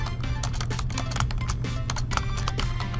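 Typing on a computer keyboard: a close, brisk run of key clicks in quick irregular rhythm over a low steady hum, with no speech.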